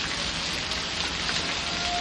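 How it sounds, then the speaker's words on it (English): Dense, steady patter of heavy rain and tennis-ball-sized hail with hard pellet-like hits, an unbroken wash of noise with no voices. "it's still hailing"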